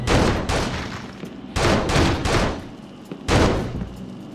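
Bursts of gunfire in the video game Urban Chaos: Riot Response, three loud, dense volleys separated by brief lulls, close and forceful with a noisy, reverberant tail.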